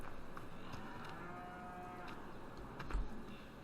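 Cattle moo in the video game Farming Simulator 15 on the Akendorf map, low drawn-out calls over a soft farmyard ambience with light ticking sounds.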